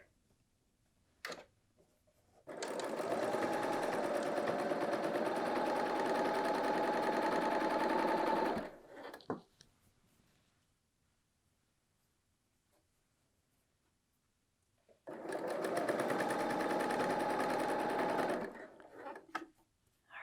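A BERNINA L 890 serger runs a side seam on a woven top in two sustained bursts of fast, even whirring, separated by a long quiet pause, close and fairly loud.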